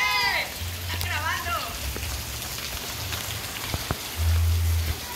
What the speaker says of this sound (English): That's the water coming off our roof.